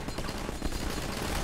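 Rapid gunfire from a Sonic video game, a dense, continuous rattle of shots filling the moment, loud and unbroken with no talk.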